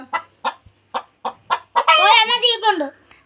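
A chicken close by gives a string of short, evenly spaced clucks, then breaks into a longer, rising squawking cackle.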